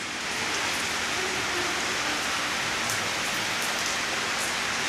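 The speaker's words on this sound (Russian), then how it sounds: "дождик пошел" Steady rain pours down in Thailand, a dense, even hiss of drops hitting surfaces that stays constant throughout.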